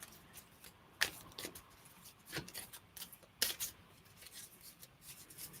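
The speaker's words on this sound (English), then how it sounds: "Not incredibly easy to shuffle, as you can imagine, as they're heart-shaped" A deck of heart-shaped tarot cards being shuffled by hand, quiet close papery slides and snaps in an irregular rhythm with a few sharper flicks, alone without talk.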